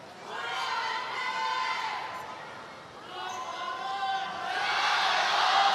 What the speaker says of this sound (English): And the crowd getting involved, led by the Chinese fans.